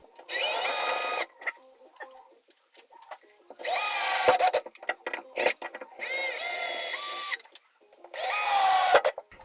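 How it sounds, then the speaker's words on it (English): A power drill drives a hollow wall anchor into a closet wall, whirring in four bursts of a second or two each, separated by clicks and handling noises. "Now here's a pretty good close-up of me putting that wall anchor in."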